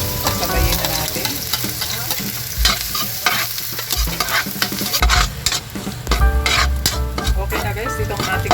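Ginger and garlic sizzle and fry in hot oil in a pan for vegetables in coconut milk, with steady crackling and repeated stirring scrapes and clinks of a utensil throughout.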